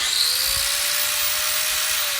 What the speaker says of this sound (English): And I have this DeWalt grinder.